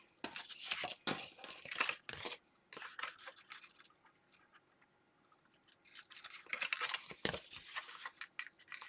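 Paper being cut with scissors for a scrapbook album, giving quick crisp snips and crinkles in two bursts with a quiet pause between them.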